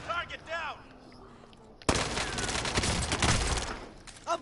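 Video game gunfire during a multiplayer shooter match, a sudden loud burst of rapid shots that roars for about two seconds after a stretch of voices and game chatter.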